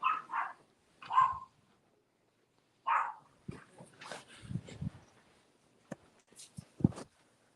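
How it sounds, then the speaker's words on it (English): A dog barks from another room, with a few short muffled barks spaced out over several seconds and some soft whimpering, heard at a distance alongside quieter bumps and noises. "you'll still hear her barking though"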